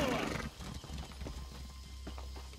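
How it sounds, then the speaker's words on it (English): A horse in a video game whinnies at the start, then hooves clip-clop steadily at moderate volume over low ambient game sound. "Horse, horse."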